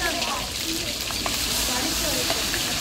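Pav bhaji being stirred as it sizzles in a large pan, a loud, steady frying hiss with faint scraping, while people talk in the background.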